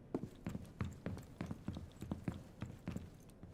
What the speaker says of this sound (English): this is what footsteps sound like.